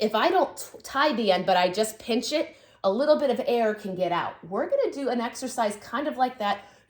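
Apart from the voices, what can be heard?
No everyday noise stands out behind the speech.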